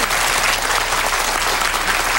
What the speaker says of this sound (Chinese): 我们就鼓掌来谢谢